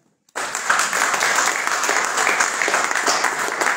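Audience applause at an evening Hanukkah gathering, bursting in suddenly and holding as a steady, dense wash of many hands clapping for several seconds.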